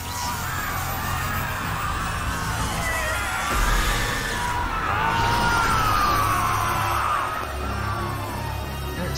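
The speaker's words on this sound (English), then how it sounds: "That sounds like screaming." Distorted screaming and yelling voices from Sonic Frontiers, a wavering, eerie wail layered over a droning, rumbling game background, sustained and moderately loud throughout.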